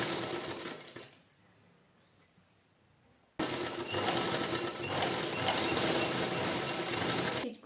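A sewing machine stitches a hand purse, first in a brief run that stops, then after a pause starts again into a loud, steady, continuous whirring hum up close.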